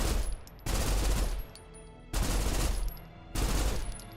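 Bursts of rapid gunfire in a Snowbreak tower defense minigame, three loud sustained volleys separated by short quieter pauses, close and dominant.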